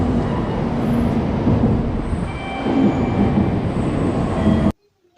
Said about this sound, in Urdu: یہ جاپان کی تیز رفتار ٹرین ہے۔